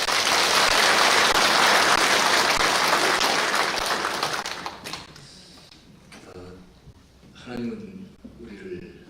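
Church congregation applauding the choir at a 110th anniversary service, loud sustained clapping that fades out after about five seconds, followed by someone speaking.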